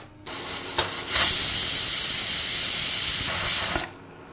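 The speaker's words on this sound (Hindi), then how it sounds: "अब इसकी अपन एक सीटी ले लेते हैं।" Pressure cooker whistle on a stove while dal cooks with turmeric and asafoetida, a sharp steady hiss of escaping steam that builds after a few faint puffs, holds for about three seconds, then cuts off.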